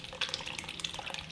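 Enzyme-dissolved oat base drains through a sieve into a beaker, a thin, close trickle of liquid with small splashy drips running steadily for a moment.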